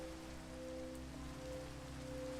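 Steady video game rain patters on a surface, a constant wash of soft hiss and droplets along with a low steady hum underneath.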